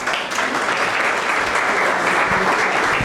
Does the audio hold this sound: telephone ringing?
no